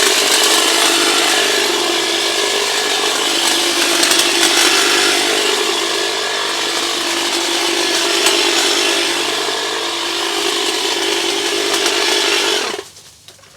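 STIHL HLA85 battery hedge trimmer cutting a hedge, a continuous close buzzing whir of the blades held for about twelve seconds before cutting off abruptly, with no talking.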